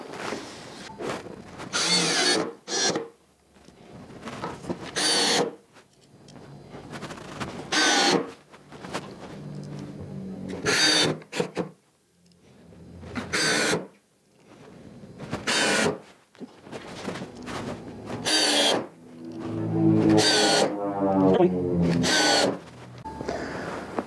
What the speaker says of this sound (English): we'll screw these down